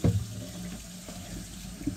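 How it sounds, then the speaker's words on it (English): A hot water tap runs into a sink while homemade dog food is being prepared, a steady low gush of water close by, beginning with a brief splash and continuing evenly for two seconds. "turn on the hot water tap,"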